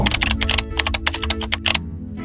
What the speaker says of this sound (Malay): dia masukkan sound effect papan kekunci